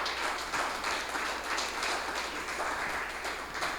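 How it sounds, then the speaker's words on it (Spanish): A church congregation claps together during a night service, giving a thick, even wash of applause that holds steady throughout with no pauses. "Denle un aplauso al Señor en esta noche"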